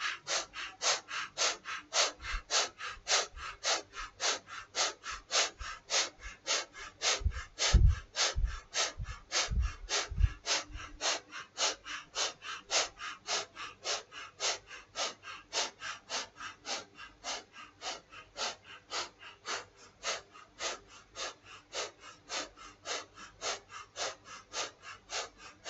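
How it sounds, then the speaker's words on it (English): Breath of fire yoga exercise: rapid, steady, forceful nasal exhalations, roughly two per second, continuing rhythmically for about 25 seconds and fairly close. A few deeper thumps come partway through, with no talking. "And here we're gonna do breath of fire."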